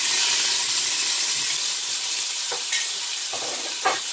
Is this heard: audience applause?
no